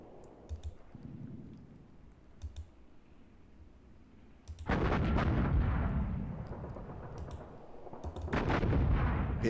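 Artillery fire in the wargame Panzer Campaigns Poland 39, with sharp clicks early on and then two loud, rumbling booms that trail off slowly, heard fairly close without any talking.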